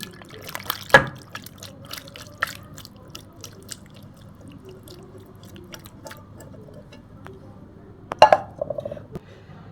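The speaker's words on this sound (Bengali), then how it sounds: "এখন এই সবজিটাকে আমি সার্ভ করে দিচ্ছি" Chinese mixed vegetables are spooned into a serving dish, giving soft wet clinks and scrapes of utensil against dish in two separate bursts, with quiet stretches between.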